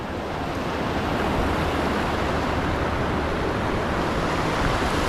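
Rapids on the Susquehanna River on the Lancaster side rush in a steady, close broadband roar at low water. The flow continues unbroken throughout, with no voices.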